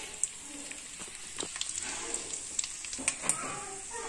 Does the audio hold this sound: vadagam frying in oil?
yes